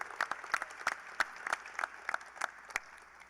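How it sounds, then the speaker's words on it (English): Audience at a University of North Carolina and NC State event in Greensboro clapping for Derek Wittenberg, sparse distinct claps from a small crowd, fairly quiet and steady. "How about a round of applause for Derek Wittenberg?"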